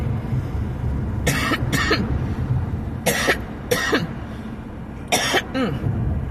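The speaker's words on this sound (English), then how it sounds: "I've been coughing so much and so hard that my throat is now irritated." Three bursts of harsh coughing, each a quick pair of coughs, spaced a couple of seconds apart and close to the listener.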